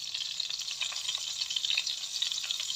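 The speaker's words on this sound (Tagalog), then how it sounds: "Hayaan muna natin na mainit ang ating mantika." Cooking oil heats in a pan on an electric cooker, giving a continuous bright crackling sizzle that stays close and fairly even throughout, with no voices.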